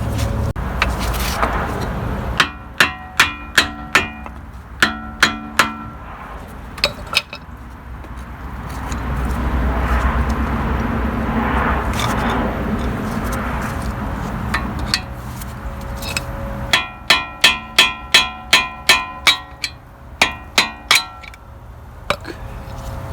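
A hammer strikes a Toyota Camry CV axle to drive it out of the hub assembly, sharp metallic bangs in quick bursts of several blows, with a longer quieter stretch between the bursts, close and loud.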